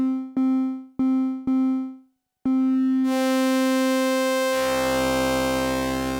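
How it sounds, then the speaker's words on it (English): A Make Noise Strega synthesizer plays a few short plucked tones, then holds a sustained drone that turns brighter and buzzier as its tone sweeps and folds. "By sweeping through the tones, you go from higher to lower pitches, but you also get a sort of wave folding"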